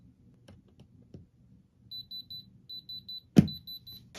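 Diamond tester beeping while touching moissanite stones on a 925 silver Cuban link chain: a steady series of short, evenly spaced electronic beeps, close and clear, with a sharp tap partway through and soft handling noise underneath.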